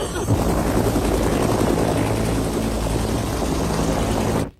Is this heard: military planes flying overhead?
yes